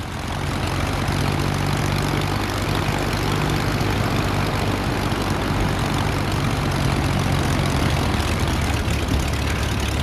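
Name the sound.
aircraft engine run-up in Prepar3D flight simulator video game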